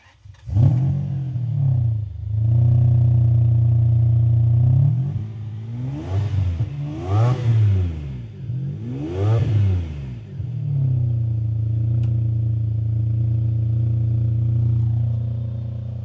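A 1998 Ferrari 550 Maranello with a front-mounted V12 and recent timing belt and fuel filter service starts up and settles into a steady idle, then is blipped through three sharp revs before returning to a smooth idle, close and loud.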